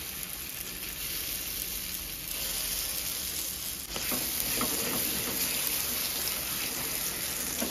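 Ground biuli dal fried in hot oil with nigella seeds, a dense steady sizzle that swells louder midway as the paste hits the pan, with faint crackles and stirring, close and without talk.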